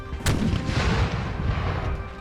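A cannon in Napoleon: Total War booms once near the start, followed by rumbling battlefield noise and distant gunfire in the game's combat.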